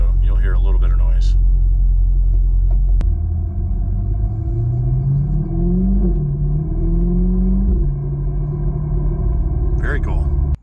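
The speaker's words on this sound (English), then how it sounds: "I was driving with the windows down, so you'll hear a little bit of noise." A Corvette C8 driven with the windows down gives a low engine rumble and heavy road noise, with pitch climbing through a couple of upshifts, steady and close from the cabin.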